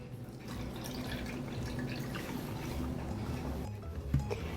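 A cup of water pours into a blender already holding serrano peppers, onions and salt, a steady splashing and trickling fill with no talk over it.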